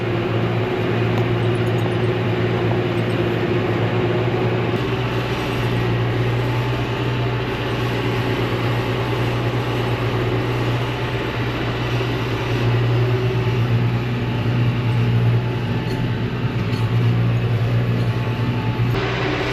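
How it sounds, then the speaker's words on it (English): Farm tractor pulling a hay tedder across a field, a steady loud engine drone with a low rumbling hum and constant mechanical whir running unbroken throughout, close and continuous with no voices. "Now we're tedding while Dad goes and mows some more fields."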